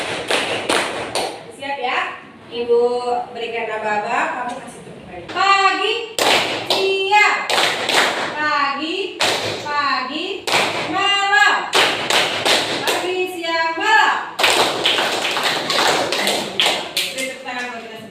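Children in a classroom play a call-and-response clapping game, answering a teacher's spoken prompts with short bursts of sharp, close claps in counted groups, each burst following the voices.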